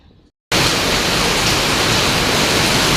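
Heavy tropical rain pouring down among fruit trees such as calamansi, a sudden dense wash of hissing noise that starts after a brief quiet moment and stays loud and steady.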